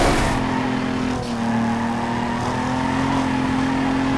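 Steady engine drone of a car in Need For Speed Underground 2, a sustained hum with a brief dip near the middle, continuous and close with no talk over it.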